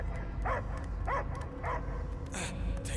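Dog barks in the video game Guardians of the Galaxy, a few separate woofs spaced about half a second apart with a whimpering yip, fairly close over a low game ambience.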